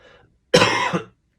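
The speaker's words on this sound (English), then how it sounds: "Excuse me, I had a little bit of a cough." A single short, loud cough, harsh and close, after a brief near-silent moment.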